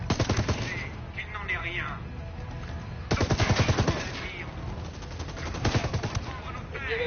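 Bursts of rapid automatic gunfire crackle in a French-language shooter video game, with short volleys recurring amid spoken dialogue and game sounds.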